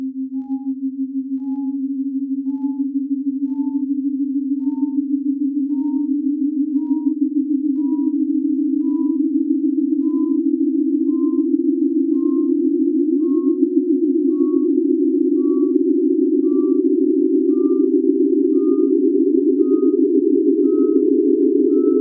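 Synthesized sine tones sonify a 30-sided triacontagon, forming a steady low tone that glides slowly upward with faint higher partials. It sounds loud, continuous and alone, with a subtle pulsing through its full length.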